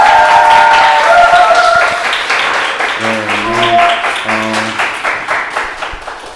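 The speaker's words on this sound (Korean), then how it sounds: "큰 박수 부탁드립니다." Audience applause after a bandoneon concert, dense clapping throughout under a tonal sustained sound and a speaking voice, fading slightly toward the end.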